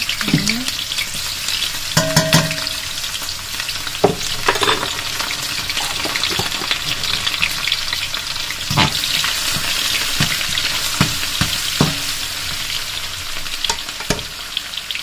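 Onions and garlic fry in a pan with a dense, continuous sizzle. Occasional clinks and scrapes of stirring break through close by, and no one speaks.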